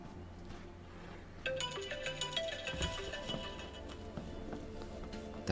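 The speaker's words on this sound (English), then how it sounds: "That's my alarm!" A phone alarm rings with a repeating electronic ringtone melody, growing louder partway through and continuing steadily, heard close by over faint background sound with no speech.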